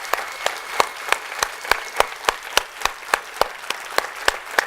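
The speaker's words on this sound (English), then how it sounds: "I have to ask you for some noise, or applause should be fine, so that I can see how loud you can be." A conference audience claps loudly for a live demo, a steady run of sharp, evenly spaced claps that land close and prominent, almost rhythmic, with no talking over them.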